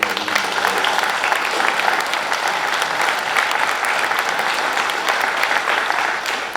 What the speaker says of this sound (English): let's all give the Mel Hambelton Racing a big round of applause